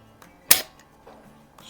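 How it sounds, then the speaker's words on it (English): A single sharp snap of a Crosman 1377 air pistol dry-fired unpumped and unloaded, its trigger releasing the hammer in one crisp close click amid near silence. "fire it without having to have it pumped up or loaded."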